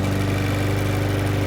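A Honda IZY lawnmower engine runs steadily at close range, a loud continuous droning rumble with a rapid throbbing pulse.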